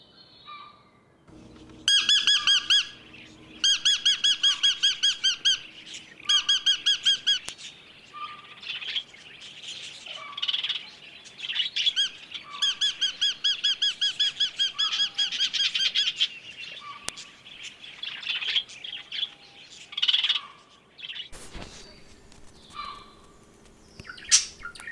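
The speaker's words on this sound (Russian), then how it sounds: "Попугай." A parrot squawks and chirps in bursts of rapid repeated calls, loud and close, with short pauses between phrases and no talk.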